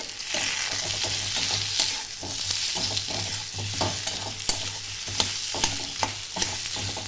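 Small potatoes are stirred into a fried spice mix in a pan, giving steady sizzling under repeated scraping strokes of a spatula, with sharper clinks toward the end and no voices.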